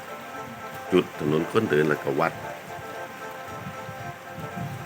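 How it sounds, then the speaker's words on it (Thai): Steady rain patters down outdoors in Chiang Khan, Thailand, a constant soft hiss from start to finish while someone talks briefly over it. "ฝนตก"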